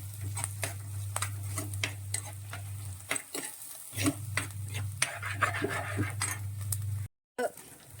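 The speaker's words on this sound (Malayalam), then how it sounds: "കൊടംപുളിയും കൂടി ഇട്ടാണ് ഇതിൻ്റെ ഉള്ളി നമ്മൾ വഴറ്റുന്നത്" Onions sauté in a pan with kudampuli (Malabar tamarind) as a spoon scrapes and stirs in repeated close strokes over a soft sizzle and a low steady hum, with a brief dropout near the end.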